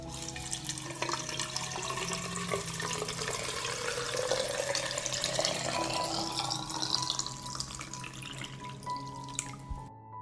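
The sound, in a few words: pouring boiling water into jars of tomatoes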